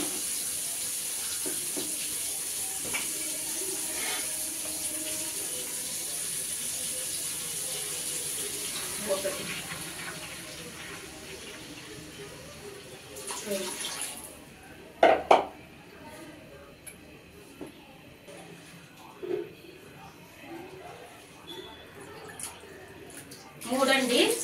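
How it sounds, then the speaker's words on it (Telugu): Measured cups of water are poured into a pan of fried tomato, onion, green chilli and curry leaves for moong dal upma, a steady gurgling stream with clinks and splashes, and someone talking at times. "కొలత నీళ్లు పోసుకుంటామండి"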